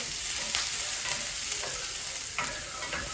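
Chopped onion fries in a pan for a cheesy garlic fettuccine, a steady close sizzle with a few stirring scrapes and clicks running through it, and no voice over it.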